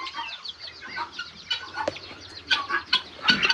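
Guinea fowl on a farm call in a run of sharp, rasping, repeated squawks, several birds overlapping in an uneven rhythm at moderate distance.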